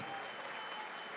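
Audience applause fills the hall at the opening ceremony of a WDF darts World Cup in Romania, a steady wash of clapping from a crowd, moderately loud and continuous throughout.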